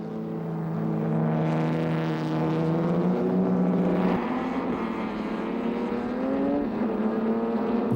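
A 1936 ERA racing car fitted with a 2-litre engine runs steadily and loud at close range, its engine note holding a strong harmonic drone that shifts pitch midway as it revs, with no talk over it.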